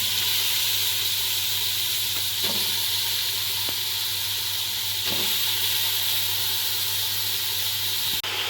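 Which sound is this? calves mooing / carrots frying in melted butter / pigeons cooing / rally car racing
carrots frying in melted butter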